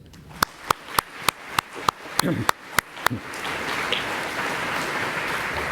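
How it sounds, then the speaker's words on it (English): Audience at a game developers conference keynote breaks into applause: a few sharp, evenly spaced claps first, then a swelling wash of clapping from the crowd that carries on steadily. "I think they deserve a big round of applause"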